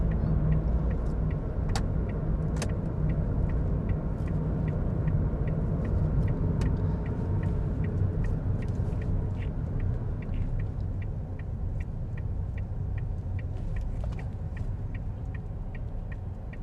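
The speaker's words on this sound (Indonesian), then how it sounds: "Ada apa ini macet sekali?" Road traffic in a jam: a steady, dense rumble of car engines and idling vehicles close by, with faint regular ticking and an occasional short hiss on top.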